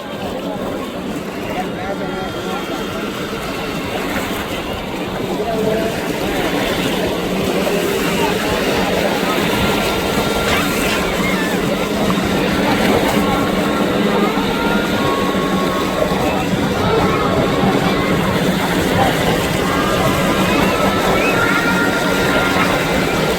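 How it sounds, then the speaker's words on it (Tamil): Racing boat speeding across open sea during a boat race off Mathagal, Jaffna, its engine a steady, loud broadband roar mixed with wind and water rush for the whole stretch, with voices faintly underneath. "இப்போ முதலாவது இந்த போட்டு தான் போய் கொண்டிருக்கேன்"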